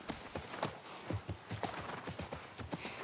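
Horse hooves clip-clop in a steady, moderately close rhythm of repeated soft thuds through The Last of Us Part 1 video game, heard alone without talk.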